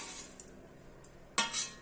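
A spatula scrapes and rustles through dry sesame seeds roasting in a pan under a faint steady hiss, with one sharper metallic scrape near the end.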